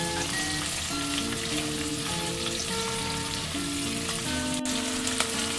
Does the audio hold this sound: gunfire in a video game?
no